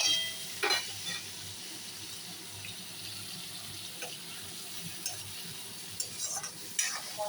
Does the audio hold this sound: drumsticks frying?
yes